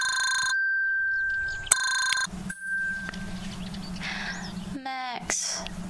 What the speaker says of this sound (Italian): suona il telefono di fianco al letto